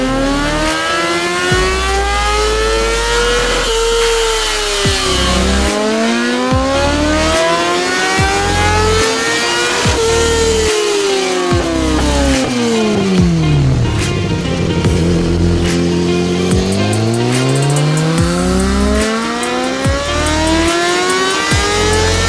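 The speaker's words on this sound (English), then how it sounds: "here's the sound of the HP4 Race, which is essentially the predecessor to the M, with the same inline-4 layout" BMW HP4 Race inline-4 motorcycle engine revving hard, the pitch sweeping up and down again and again through repeated throttle blips, loud and continuous with no talk.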